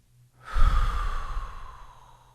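A deep breath blown out during a calm breathing exercise, one long audible exhale that swells quickly and then slowly fades, close and alone with no talk.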